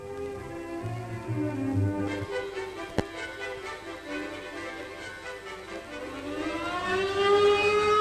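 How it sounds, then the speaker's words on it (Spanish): A factory siren signaling the end of the workday wails for several seconds, sustained and slowly shifting in pitch, with a single sharp click partway through. "Suena la sirena que pone fin a la jornada."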